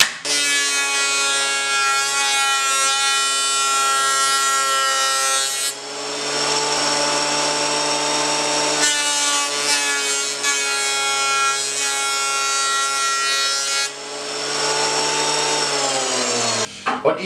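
Jointer planer taking a whisper-thin shaving off a wood strip for a zero-clearance table saw insert, a loud steady machine whine with a strong harmonic hum, dipping briefly between passes, with no talk.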